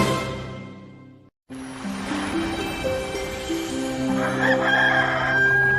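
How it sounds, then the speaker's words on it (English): A rooster crows loudly at daybreak, a long drawn-out cock-a-doodle-doo that rises and holds, following a brief silence, with other fowl sounds and a sustained musical backdrop beneath. "The roosters woke me at daybreak,"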